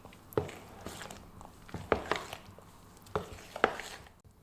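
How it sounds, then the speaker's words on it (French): Semolina pancake batter with milk being mixed in a bowl, irregular wet taps and scrapes of the utensil recurring every half second or so, close and fairly quiet, with no talking. "100 ml de lait. Je mélange."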